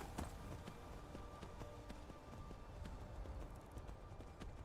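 Horse hooves clip-clopping in the video game Skyrim, a fairly quick run of sharp, evenly spaced hoof strikes over soft background noise, faint and without talk.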